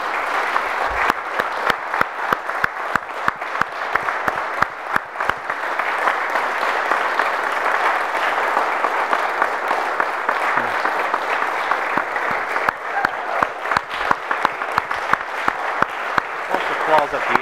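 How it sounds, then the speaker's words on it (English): A room full of people applauds an Eagle Scout at his ceremony, dense continuous clapping that holds steady for the whole stretch, close and loud. "I'd like everybody to give him a hand."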